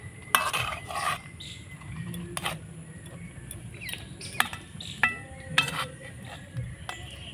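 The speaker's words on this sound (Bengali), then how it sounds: "এবার রসপুলিগুলো আমি সেরার মধ্যে দিয়ে দিব। একটু নাড়াচাড়া করে নেব।" Rasapuli dumplings made with ripe palm are stirred in warm syrup in a pot, with scattered light clinks and scrapes of a spoon against metal over a quiet background.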